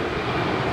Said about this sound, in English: That was American Airlines Flight